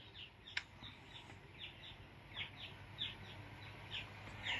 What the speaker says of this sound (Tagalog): Share ko lang itong aking tandang